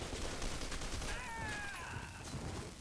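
Rapid assault rifle fire in the shooter game F.E.A.R. 2, a steady dense burst of shots running the whole time with a few synthetic whines layered over it midway.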